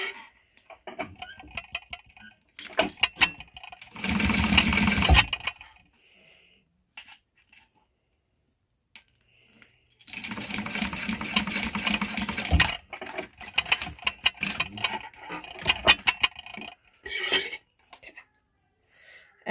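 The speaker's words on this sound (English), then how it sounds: "I'm going to baste the ends together using 1/8 of an inch stitch" A sewing machine bastes fabric ends with a 1/8 inch stitch, running in short bursts of rapid mechanical clatter separated by pauses with small clicks.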